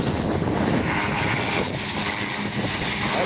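A high-pressure water washer driven by a seven-lakh-rupee motor sprays a strong jet for cleaning, a loud, steady, close rushing hiss that holds unbroken throughout with no voices.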